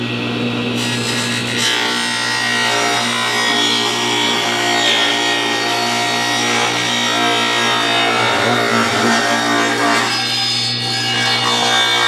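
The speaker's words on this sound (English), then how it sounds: "we're gonna rip this down to 9 5/8. And if you don't have a table saw, you could easily do this with a circular saw." A table saw rips a wooden board to width in a workshop, a steady loud whine with dense cutting noise held for about twelve seconds, with no talk over it.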